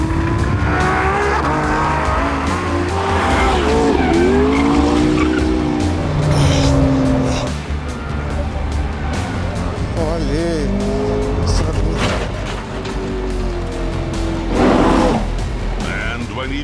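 Race cars, a Porsche among them, driven hard on a track with screeching tire squeal and skidding as they corner, engines roaring near and loud, while someone talks over much of the action.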